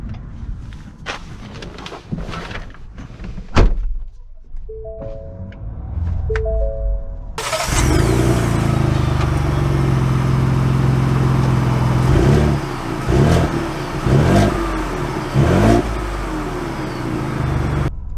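A Ford Bronco Badlands is handled and started: door and handling thumps, a brief electronic chime, then the engine catches and a loud, close rumble runs steadily with throttle surges as it drives off.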